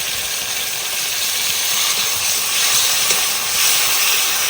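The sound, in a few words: water hissing as it is added to frying spice paste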